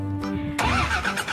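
A toy fire truck gives off a steady, motor-like whirring tone with a sudden shift partway through, loud and continuous with no pauses.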